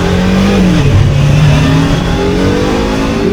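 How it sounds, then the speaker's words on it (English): A BMW F 450 GS motorcycle engine revs loudly and up close on a test ride, its pitch climbing, dipping, then rising again through the gears in a steady, unbroken drone. "going to test ride the BMW F450 GS"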